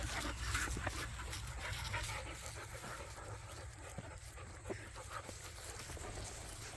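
A pet dog pants steadily close by on a homestead, a continuous breathy rhythm running the whole time with faint rustling and handling noise.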